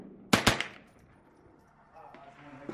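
A .22 gun with a fast trigger fires two sharp shots in rapid succession, close and loud, followed by a quieter stretch of low handling noise.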